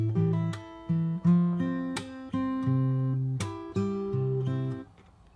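Fingerstyle acoustic guitar plays the last bars of the chorus of a song, plucked notes and chords in a steady rhythm with sharp percussive accents, close and clear, ending on a ringing chord.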